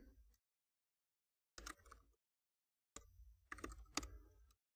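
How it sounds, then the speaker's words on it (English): Commands typed on a computer keyboard in bursts of quick key clicks, three short clusters separated by silence, close and fairly quiet. "I'm going to type each of these commands here."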